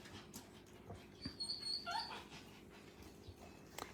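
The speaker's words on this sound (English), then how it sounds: "That's called a confident puppy" Young doodle puppy giving faint, high whimpers and short yips, soft and close against quiet room noise, a few thin cries clustered in the middle.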